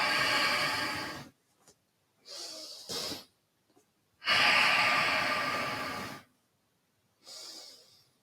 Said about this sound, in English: Big breaths. 3 more breaths.